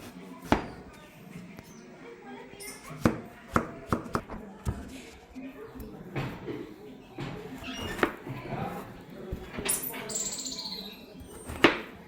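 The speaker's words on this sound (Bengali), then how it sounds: "এটাকে এবার আমি মাছে কেটে নেব।" Knife chopping through fish on a board in a village kitchen, where a tender young bottle gourd is also being prepared for fish curry; sharp intermittent chops and thuds come at irregular intervals amid soft handling noise and background sounds.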